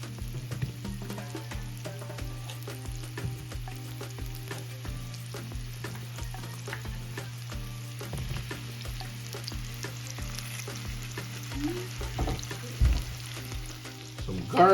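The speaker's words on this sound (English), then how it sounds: "I know the sizzle is taking some time to come up" Mushrooms sizzle in a cast iron skillet, a steady soft frying hiss that runs throughout, with occasional light clinks and stirring sounds near the end.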